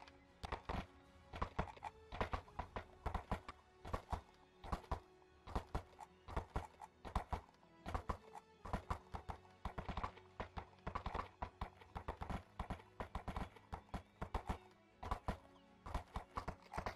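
Horses' hooves clip-clopping past, a steady run of loud, close thuds and knocks lasting throughout, with no talking.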